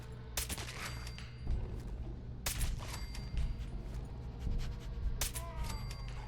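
Bursts of gunfire in Fallout 4, three sharp loud volleys spaced a couple of seconds apart over a low rumbling game backdrop, with faint ringing tails after each burst.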